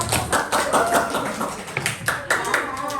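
Classroom audience gives a round of applause after a lesson session, a dense burst of many hands clapping that runs steadily throughout at moderate volume, with a little talk mixed in.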